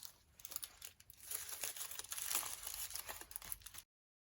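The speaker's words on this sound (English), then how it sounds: "let me try the wax paper again" Wax paper crinkles and rustles over a craft journal being touched up with gesso, a close, steady stream of dry crackling with brief louder bursts, alone with no talking.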